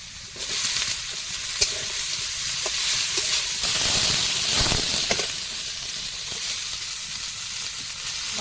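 Cabbage tossed into a pan of frying five-spice seeds and ginger-garlic paste, a loud, close crackling sizzle with a burst of steamy hiss as it lands and scattered utensil clicks while stirring.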